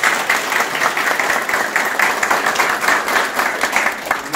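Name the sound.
party members applauding at a political rally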